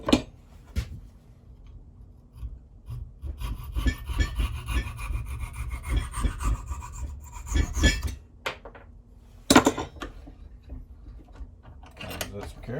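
A knife maker's hammer handle is trimmed with a hand tool, giving bursts of rasping, scraping strokes of varying length, some quick and sharp, close and moderately loud with quiet pauses between them.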